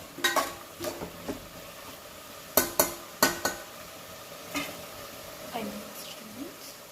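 Brinjal curry with tamarind being stirred in a frying pan: a soft sizzle with irregular sharp clinks and scrapes of a spoon against the pan, some close and loud, others lighter.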